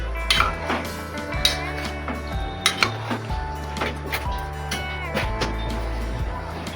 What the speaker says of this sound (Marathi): आता आपण एकदा मिक्स करून घेऊया.